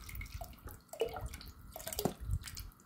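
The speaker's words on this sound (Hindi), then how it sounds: "ये जा रहा है जी सिरका" Vinegar trickles into a pot of water in a home kitchen, giving soft, faint splashes and scattered drips.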